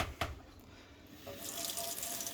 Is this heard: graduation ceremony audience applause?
no